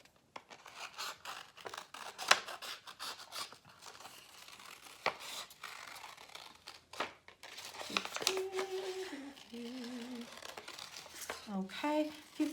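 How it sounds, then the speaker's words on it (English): Scissors snip out a pencil-drawn paper heart for a Valentine's card: a close run of sharp cuts and paper crinkles in a quiet room, with brief speech near the end. "And now I'm going to cut it out."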